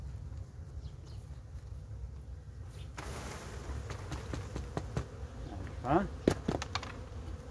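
Honey bees buzzing around an open hive during a colony inspection, a steady low drone with a few louder passes close by, while someone speaks briefly.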